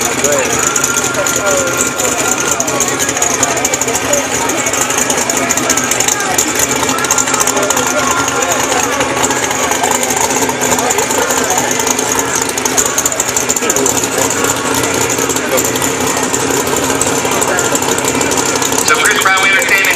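A new-body-style Pontiac GTO with a 6-liter LS1-style V8 runs at the track on a license run, its engine droning loud and steady throughout with voices talking over it.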